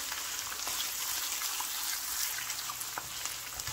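Chana dal and spinach sauté in a hot pan, giving a steady, close, dense sizzle throughout with a few faint stirring ticks and no talking.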